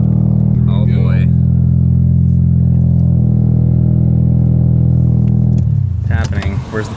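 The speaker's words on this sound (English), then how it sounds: "your exhaust is heavily modified" Car with a heavily modified exhaust idling in a loud, deep, steady drone close by, with people talking over it and a change in the engine note near the end.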